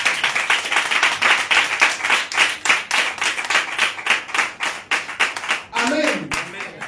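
A church congregation claps loudly during a French-language sermon, a dense rhythmic burst of hand claps that continues for several seconds, with a voice briefly heard near the end.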